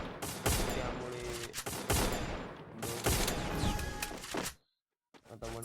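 Sustained bursts of rapid automatic fire from MP40 and Woodpecker guns in a shooter video game ring out loud and dense, broken by brief pauses. The firing cuts to near silence just before the end.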